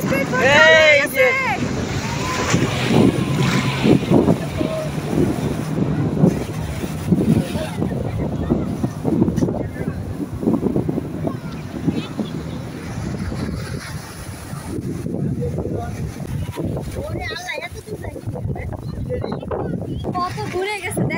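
Sea waves heard from aboard a boat, a continuous loud rush of water and wind buffeting mixed with engine drone, with people talking over it throughout.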